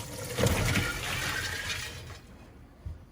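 A big pot of crawfish boil pours out in one rushing splash of water and crawfish into a basket, a loud gushing wash that tapers off, with a small knock at the end.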